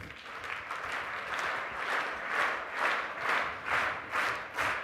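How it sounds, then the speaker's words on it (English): An audience at a business talk claps together in unison, the many hands locking into a steady pulsing beat of roughly two claps per second, each swell of sound rising and falling evenly, with no one speaking. "I want you to start clapping, but I want you to clap in unison"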